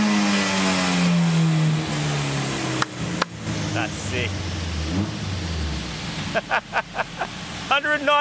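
A Honda Civic's naturally aspirated engine, about 195 horsepower, revs loudly and steadily with a falling drone, then quieter sputters and blips follow while people talk over it.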